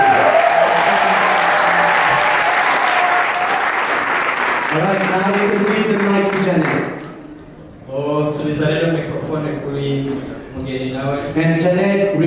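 Guests applaud steadily at a church wedding ceremony for several seconds, the clapping fading as a voice begins talking, with a brief lull before speech continues.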